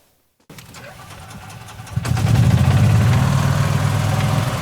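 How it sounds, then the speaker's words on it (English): A golf cart at a zoo starting up after a moment of silence, a motor catching then running steadily, loud and close as it drives along paths. "We're driving on the golf cart on the paths."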